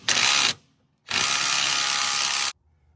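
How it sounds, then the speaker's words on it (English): A ratcheting wrench whirs in two loud bursts, one short and one sustained for about a second and a half, up close while working a lock nut on a Mazda 3 tie rod. "We got a 13 mil wrench."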